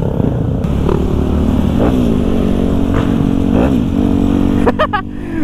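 A 150cc motorcycle revs hard on a night ride near Lembang alongside a larger 250cc-plus bike, the engine droning loud and close with rising and falling surges and wind buffeting, while a rider talks over it.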